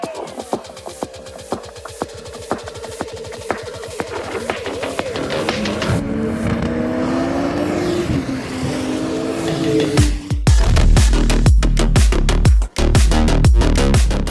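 BMW race cars in a Turbo Cup qualifying session rise and fall in pitch as they pass by. The engines grow louder and closer toward the end, where heavy buffeting and sharp clicks come through.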